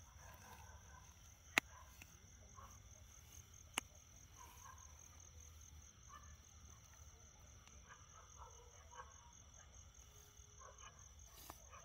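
Field crickets chirp at night in rice-field country, a faint continuous trill with frogs croaking softly and a couple of sharp clicks nearby.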